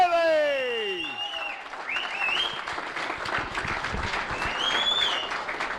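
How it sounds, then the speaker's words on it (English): Applause from an audience hails the champion of a GUKPT Manchester poker tournament main event: dense, steady clapping that fills the whole stretch, with a few bright whistle-like sweeps riding on top. "That is a round of applause for a super man who is on fire at this moment in time."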